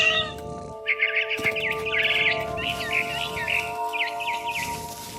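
A cat meows repeatedly in a video game, What Remains of Edith Finch, a series of short mid-pitched calls over a steady musical drone and ambient hum, with no talking.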